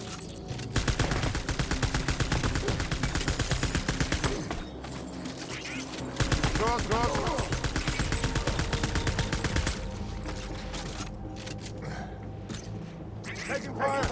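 Rapid gunfire in the video game Death Stranding, long bursts of machine-gun fire with short pauses between, loud and dense, layered with game sounds and voices.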